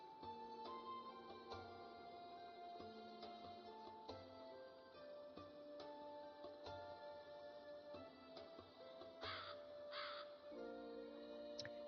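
A crow caws repeatedly in a game world, sharp calls rising over a busy, layered soundtrack with ticking percussion that runs throughout.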